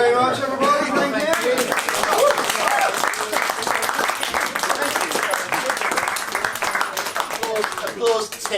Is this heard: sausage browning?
no